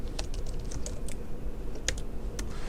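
Quick, light clicking of keys being typed on a computer keyboard, a steady patter of close taps with no talking.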